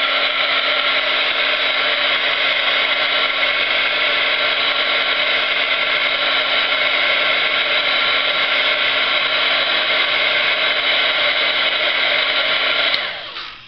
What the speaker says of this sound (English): I'm just going to use my heat tool.